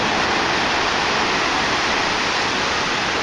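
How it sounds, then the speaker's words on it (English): Black water and sand gush from the end of a gold dredge discharge pipe, a loud, dense, continuous rushing roar close up with no pauses. "And now all that nasty black water running into the end of the pipe, and sand, of course."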